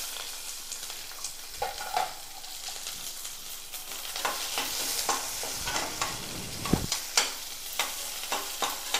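Small onions and urad dal fry in a pan with a continuous close sizzle. Scraping stirs with a spoon rise above it at intervals.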